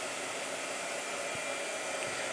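A blow dryer runs steadily throughout, a constant close whooshing hiss filling the short stretch with no voices over it.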